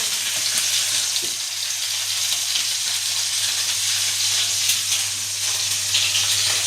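Parshe fish fry in hot oil in a pan, giving a continuous close sizzle and hiss with a brief bump near the start, loud and steady with no voices.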